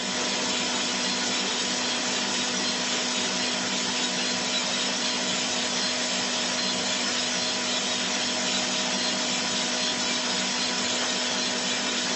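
Huky 500 coffee roaster roasting Kenyan coffee beans, a steady loud whooshing drone of fan and heat with a constant low hum, unbroken and close throughout.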